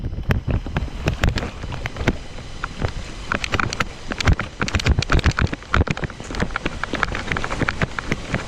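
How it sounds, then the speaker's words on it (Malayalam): Rain beginning to fall on a broken, landslide-hit mountain road in Sikkim, a dense patter of close drops and crackles mixed with steady wind rush across the microphone, continuous throughout with no voices. "ആ മഴ പെയ്ത് തുടങ്ങി"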